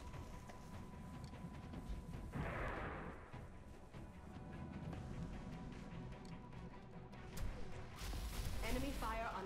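Enemy gunfire in XCOM Long War: bursts of shots and crashing impacts, fairly faint, over busy game background, with a voice talking.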